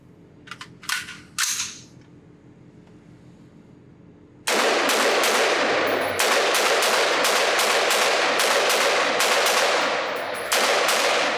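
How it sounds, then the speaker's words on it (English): Rifle fire at a shooting range: a few sharp, loud reports, then a long, rapid string of closely spaced shots that keeps going nearly to the end, with no talking. "let's put some more rounds through this rifle"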